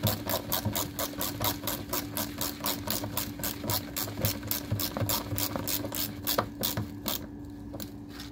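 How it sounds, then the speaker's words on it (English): While the windows of an abandoned aluminum sailboat are dismantled, a nut is turned on a bolt, producing a quick, even run of ratchet-like clicks over a low steady hum, fairly quiet and close, with no voices. "one person needs to be outside to hold the bolt, and the other one needs to be inside to turn the nut"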